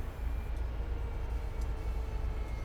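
An MBTA commuter train brakes in the Train Sim World 5 video game, a steady heavy rumble of rolling stock with a faint high brake whine and occasional light clicks, continuous and close.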